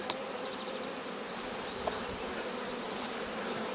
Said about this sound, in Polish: jest godzina 10 pszczoły ładnie noszą nektar